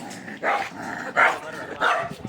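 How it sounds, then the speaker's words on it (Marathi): A dog barks three times at a village roadside, loud and fairly close, with short even gaps between the barks and no talking. "मागं कुत्रं लागलं."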